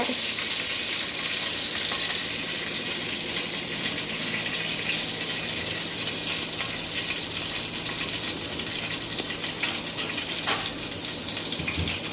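Mustard seeds sizzle in hot oil while tomato sambar is being tempered, a steady, loud, dense hiss that holds evenly throughout with no pauses.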